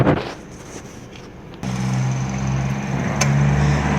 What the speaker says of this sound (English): As you can hear, the vehicle is idling perfect.